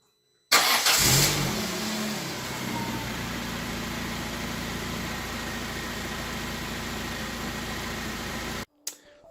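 A Peugeot 206 CC engine cranks and catches with a brief starter whir, then settles into a steady, fairly loud idle close by for several seconds before cutting off abruptly, with no talking.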